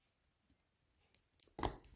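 Scissors snip loose crochet yarn ends on a small rose, giving a few faint clicks and then one louder, close cut near the end, with no talking.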